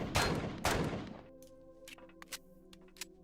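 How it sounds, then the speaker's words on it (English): Gunfire in the sci-fi survival game Empyrion Galactic Survival as the player blasts through a locked automatic door: two loud, close bursts of shots, then scattered lighter impacts over a humming electronic background. "We'll just shoot our way through this then."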